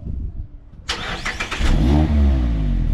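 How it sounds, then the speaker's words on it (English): Mazda ND Miata on its stock exhaust fires up after a moment of near silence, catching with a burst and settling into a low, fairly quiet steady idle close by. "This is a stock exhaust. This is what it sounds like."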